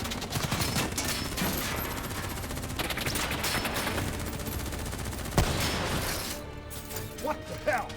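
Rapid automatic gunfire in the Call of Duty: Black Ops III campaign, sustained bursts with crashes and impacts, under shouted voices and a sharp bang near the end before it thins out.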